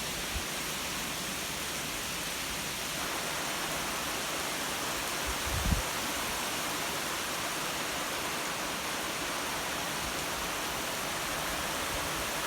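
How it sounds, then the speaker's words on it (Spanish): Heavy rain pours down in a strong downpour in Etxebarri, a dense, steady roaring hiss that fills the scene without letup, with one brief dull knock partway through. "¡Qué barbaridad! Vaya forma de llover."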